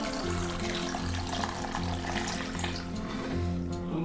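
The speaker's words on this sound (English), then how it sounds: "Now let's add some water." Water pours steadily into a cooking pot holding pork, bamboo shoots, chayote, tomato and fresh chilies, a close, continuous splashing stream with a faint tonal ring as the pot fills.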